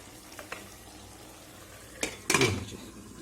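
A lid set onto a cooking pot of spiced potato sabzi, one sharp metallic clank followed by a brief rattle as it settles, close by over a faint kitchen hiss.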